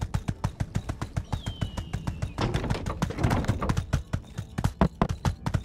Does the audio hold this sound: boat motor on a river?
no